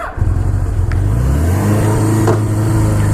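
A 1980 Suzuki GS750 motorcycle engine cranks and catches, then settles into a steady, loud idle close by, heard alone with no talking.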